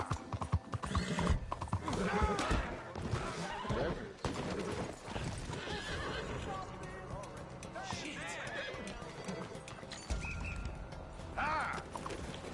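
A horse in the video game Red Dead Redemption 2 galloping with rhythmic clip-clop hooves and creaking tack, whinnying at points, while someone repeatedly shouts encouragement over it.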